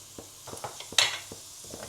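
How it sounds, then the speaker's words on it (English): A spoon stirring tomato puree into a sizzling pot of beef bourguignon, with soft scraping strokes and a few light clinks against the pot over a quiet frying hiss. "Give that a good stir in."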